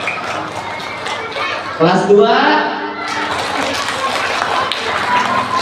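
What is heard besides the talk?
schoolchildren clapping hands, class by class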